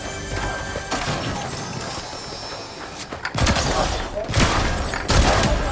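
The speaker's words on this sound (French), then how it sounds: "J'entends des tirs derrière moi." Bursts of gunfire in a multiplayer shooter video game, a volley of shots cracking through the middle and end, moderately loud over steady game ambience with no speech.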